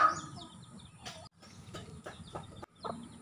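Several free-range chickens cluck and squawk in short, scattered bursts over a low, steady background murmur, close by and moderately loud.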